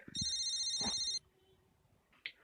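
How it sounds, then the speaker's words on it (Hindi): A phone's ringtone trills loudly for about a second in a strong tonal burst, followed by quieter background noise and a brief faint chirp near the end. "उन्हीं का फोन है।"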